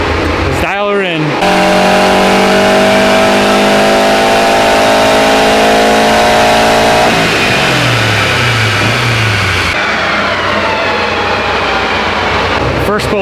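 A 700-plus wheel-horsepower all-wheel-drive Honda Civic screams through a loud, rising full-throttle dyno pull, holding near and steady before backing off into a rumbling, fluttering idle, with talk around it.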